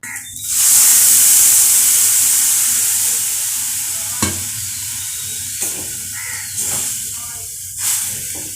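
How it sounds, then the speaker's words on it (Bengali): Water poured into a pan of sizzling soybean curry sets off a sudden loud, steamy hiss that slowly fades, with a few sharp clicks and stirring knocks near the end. "আমি একটু সামান্য চিনি ছড়িয়ে দিয়ে তারপরে জল ঢেলে দেব"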